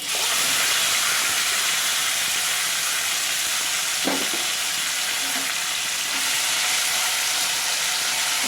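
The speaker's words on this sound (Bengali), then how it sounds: "এবার এই তেলটার মধ্যেই আমি মাটনটাকে দিয়ে দেবো, ভালো করে দিয়ে এটাকে ভাজতে হবে।" Mutton pieces frying over high flame in hot oil with whole garam masala spices for a mutton korma, a loud, unbroken hissing sizzle with a single brief knock of a utensil partway through.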